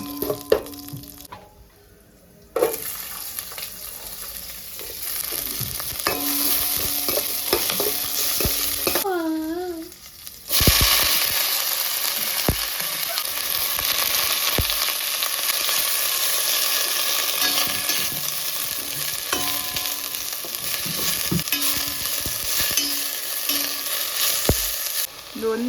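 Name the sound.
urad dal and moong dal frying in a pan for chutney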